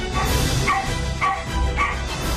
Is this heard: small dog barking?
yes